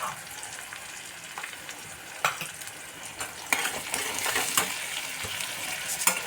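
A spice paste of onion, garlic and green chilli fries in hot oil with a bright, steady sizzle, broken by repeated scraping strokes of a spoon stirring against the pan.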